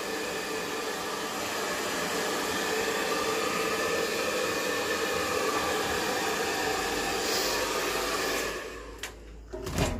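A hair dryer blows steadily and loudly on a Yorkshire terrier being groomed, a continuous close airy roar that cuts off near the end, leaving a few faint handling sounds.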